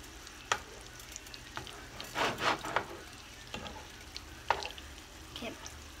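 Salmon patties frying in a pan, a low steady sizzle with a few scraping and clinking strokes of a spatula turning them, close by and moderately quiet.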